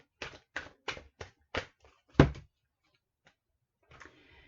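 Tarot cards shuffled in a quick run of five sharp, evenly spaced slaps, a heavier final snap, then a softer rustle after a short pause.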